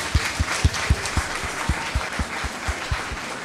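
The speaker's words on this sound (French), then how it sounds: "Applaudissez, s'il vous plaît" Audience applause at a live quiz challenge in Haiti, a steady wash of clapping under a regular series of low thumps that repeat about every quarter second throughout.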